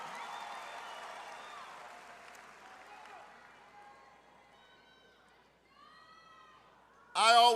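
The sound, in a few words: graduates applauding at commencement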